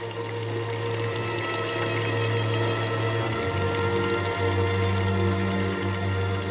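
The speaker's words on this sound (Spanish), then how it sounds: "el agua esté fluyendo por fuentes de distinto tamaño" Water runs steadily through the fountains of the Alhambra palace in Granada, a continuous even wash of flowing and pouring water with a faint low hum beneath it.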